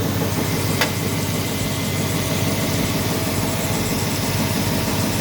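An engine fitted with newly installed dual alternators runs steadily, a loud, even idle drone with a faint whine and a single brief click, heard up close without talk.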